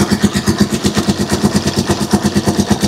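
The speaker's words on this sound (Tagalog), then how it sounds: "Maingay na yung kanyang makina." Noisy motorcycle engine idling before an oil change to Shell Advance, a loud, fast, evenly pulsing putter with a rough mechanical rattle, close up and alone without talk.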